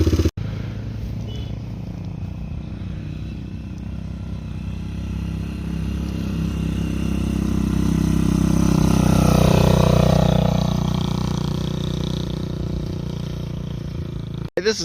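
A Kawasaki KL250 motorcycle is ridden past, its engine building from a steady drone to a loud, close pass around the middle before fading off again, with no talk.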